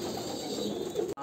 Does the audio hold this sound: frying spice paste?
no